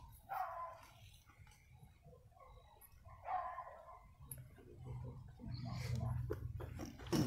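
Dogs barking at night on a dark rural road, a few distant, muffled barks in short bursts against a quiet background, with rustling and faint noises toward the end.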